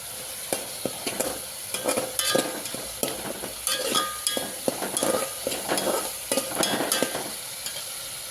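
Tomato and onion masala fries in oil for a home-style mutton curry, a steady sizzle punctuated by rhythmic scraping and clinking strokes of a spoon stirring in the pan, close and without talk.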